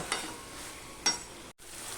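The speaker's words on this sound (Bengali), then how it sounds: "ভাজা ডিমগুলো দিয়ে আমি আরেকবার একটু কষিয়ে নেব" Fried fish roe and potatoes being stir-fried in a pan, a soft continuous sizzle with two quick scraping strokes and a brief pause near the end.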